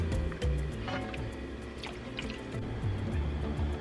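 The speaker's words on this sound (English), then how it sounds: "Make sure that you're stirring as you are pouring in your liquid." Chicken broth and half and half stream into a pot while being stirred, giving a steady close liquid pour with soft drips and sloshes under a low kitchen hum.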